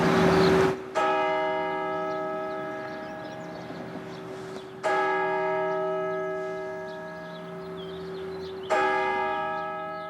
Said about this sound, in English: It pierces the Quad City skyline as clearly as its pealing bell.